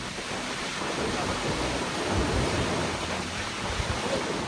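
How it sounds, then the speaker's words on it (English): Powerful 40-foot Roaring River Falls in Kings Canyon National Park, a steady broadband rushing roar of falling water, close and constant, with no voices. "First, we came to Roaring River Falls."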